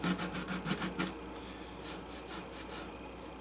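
Hand sanding with 400 grit sandpaper across the fill and finish coat of a Gibson J-45 acoustic guitar body, a quiet rhythmic rasping in two bursts of short back-and-forth strokes with a brief pause between them.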